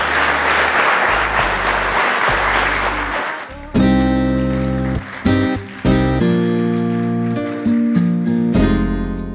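A studio audience at a Kosovo TV show gives loud, dense applause for about three seconds. Bright music then comes in and takes over.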